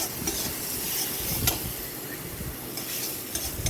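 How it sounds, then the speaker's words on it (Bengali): Softened tomatoes being stirred in a hot pan, a steady close scraping and shuffling over a continuous oily sizzle, with a few sharper utensil knocks along the way and no talking. "টমেটোটা একটু নাড়াচাড়া করে নিয়ে"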